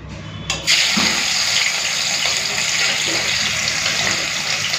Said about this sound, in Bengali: চলুন মাছটা ভেজে নিই